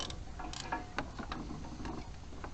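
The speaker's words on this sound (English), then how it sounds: "I'll slacken these bolts slightly and then pull the manifold out just enough to wiggle the gaskets in" Exhaust manifold bolts being slackened with a ratchet on a Range Rover Classic, quick metallic clicks and ticks of the pawl in short bursts, close but quiet against a low background hum.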